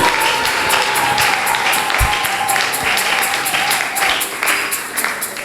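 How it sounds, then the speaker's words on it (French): A church congregation applauds during a special worship service, sustained loud clapping throughout with a steady rhythmic pulse and crowd noise, plus one low thump partway through. "Applaudissez pour vous-même."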